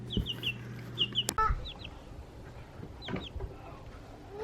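Small pocket chickens cluck and peep up close in short, uneven bursts, with a sharp knock or clatter partway through and soft handling noises between the calls.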